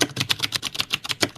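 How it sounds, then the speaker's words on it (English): Rapid, uneven keystrokes clatter up close on an aluminum computer keyboard, a quick burst of sharp clicks with no voices. "his aluminum keyboard"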